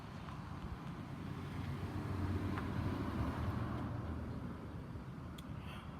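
A car passes by outdoors, a faint, distant swell of tyre and engine noise that rises to a soft peak mid-way and fades again over light background wind.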